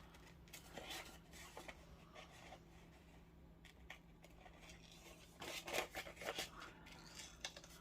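Scissors cut out paper for collage envelopes, giving close, quiet snips and crisp rustling scrapes in uneven bursts, with a busier cluster of cuts near the end and no talking.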